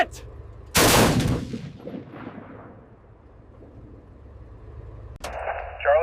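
Tank gunfire from the flank in a war reenactment: one very loud, close cannon blast rolls into a long fading rumble, followed by a sharp second crack and a brief mechanical burst near the end.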